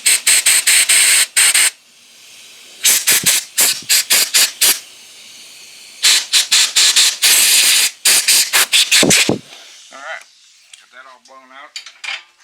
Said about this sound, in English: Then I'm going to use a little compressed air.